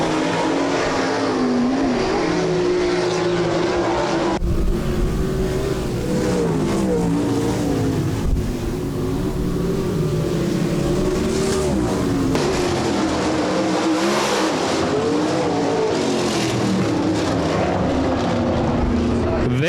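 360 sprint cars roar loudly and continuously past the heat race finish, engines rising and falling in pitch as they come off turn four, with a track announcer talking over the racing.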